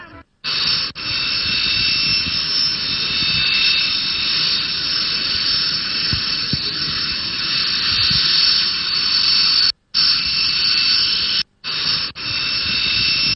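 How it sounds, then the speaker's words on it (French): A jet airliner carrying a head of government lands at Bamako-Sénou airport in Mali, giving a loud, steady, close engine whine and hiss that runs almost unbroken, with only a few brief cuts and no voices. "l'avion transportant le chef du gouvernement se posa sur le tarmac de l'aéroport de Bamako-Sénou"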